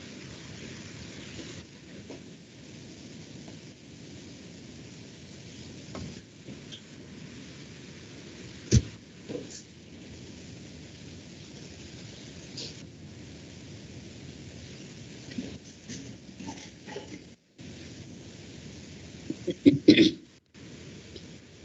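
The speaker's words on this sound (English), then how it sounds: "It's raining heavily here." Heavy rain during a thunderstorm, heard as a steady, broad wash of noise that runs through the whole stretch, with occasional louder cracks and thumps and a brief dropout near the end.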